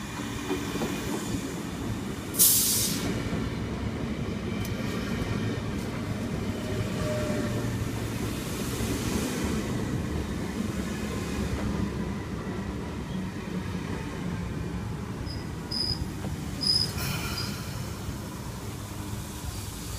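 A Sydney Trains S set electric train, eight cars long, arrives at Penrith station with a steady, loud rumble of wheels and motors, a brief hiss or squeal near the start, and faint high tones later on.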